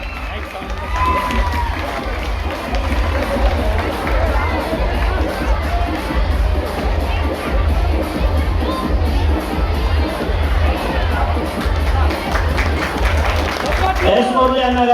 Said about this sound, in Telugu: చప్పట్లతో స్వాగతం పలకాల్సిందిగా కోరుకుంటున్నాం.